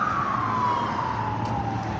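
An ambulance siren wails continuously at moderate distance, its pitch sliding slowly downward as it passes, with a steady traffic rumble underneath and no talking.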